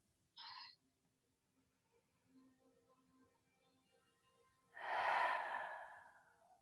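A person exhales all at once through the mouth during a spring yin yoga breathing exercise, a single strong breathy rush near the end following a brief quieter breath, close and otherwise quiet.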